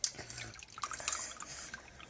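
Milk being poured into a bowl, a soft close trickle with small splashes and drips, quiet and alone.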